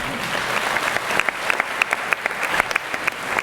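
Audience applause at a 2016 New Year's greetings ceremony: a steady wash of many hands clapping, fairly close, with sharper individual claps popping out at irregular moments for the full duration.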